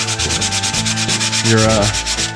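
Sandpaper rubs back and forth over a 3D printed PLA piece in fast, rhythmic strokes, a loud, close scratchy rasp repeating about six times a second with no voices.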